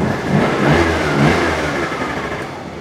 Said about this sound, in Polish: A, odpala!